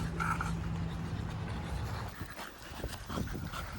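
Exotic bully dogs whimpering and panting, steady breathy panting close by with a few soft whines in the middle and no talking.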